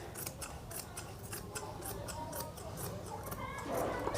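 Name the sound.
scissors cutting cloth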